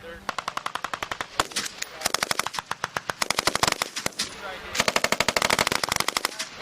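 Rapid bursts of machine gun fire ring out during a military exercise at Schofield Barracks, Hawaii, with sharp, evenly spaced shots in several long strings, loud and close, and voices shouting in between.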